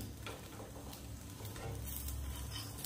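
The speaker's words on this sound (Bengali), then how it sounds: "এবারে এই পাটিসাপটাটা দুই দিকটা একটু ভালো করে ভেজে নিতে হবে" Patishapta pitha, a Bangladeshi rolled crepe, fries in oil in a pan with a steady, continuous sizzle and faint crackle, fairly soft and close, with no voices.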